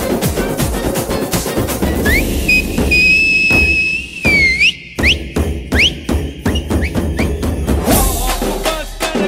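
At a success celebration for the film Sarrainodu, the crowd lets out loud shrill whistles, some long and steady and others short rising blasts, mixed with thumps and cheering noise.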